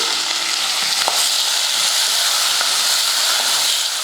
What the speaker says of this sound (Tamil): கொஞ்சம் உப்பு போட்டு வதக்கிக்கலாம்